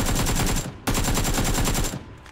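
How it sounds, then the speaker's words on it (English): Rapid automatic gunfire from the video game PUBG, two fast bursts of close, loud shots separated by a brief gap, with no talk. "Some absolute abysmal shots there"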